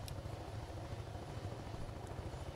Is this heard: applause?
no